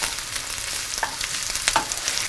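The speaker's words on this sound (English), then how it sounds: "I'm gonna fry some onion" Onions fry over medium heat in a pan, giving a steady, close sizzle with scattered crackles and a few light clinks, with no talking.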